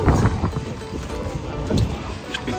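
A private boat carries passengers across the water in Costa Rica, with steady wind and rushing water noise filling the short stretch, close and continuous.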